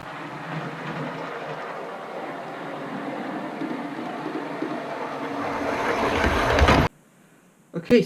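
A model HST train runs on elevated model railway track, a steady close rumbling roar that swells louder toward the end, then cuts off abruptly, followed by a couple of brief knocks.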